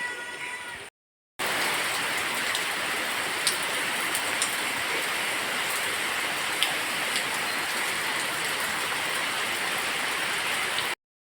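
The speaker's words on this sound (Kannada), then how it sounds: "ಈಗ ನನಗೆ ಮಳೆ ಬರಲಿಕ್ಕೆ ಶುರುವಾಯಿತು ಲೈಟಾಗಿ, ಅಷ್ಟು ಜೋರು ಬರ್ತಿಲ್ಲ." Dense, steady hiss of rain falling, even and continuous, with a brief silent gap near the start.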